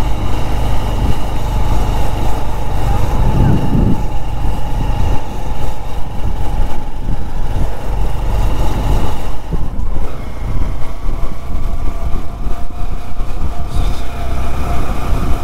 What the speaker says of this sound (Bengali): ইঞ্জিনে আওয়াজ হচ্ছে প্রচুর বেগে, ঘস ঘস করে